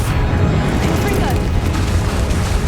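Confringo blasting spell in Hogwarts Legacy, a loud, dense rumbling burst that fills the whole moment with booming, explosive noise.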